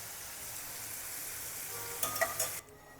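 Garlic cloves fry in hot oil, giving a steady soft sizzle at low volume, broken near the end by a few brief stirring clatters before the sizzle drops away.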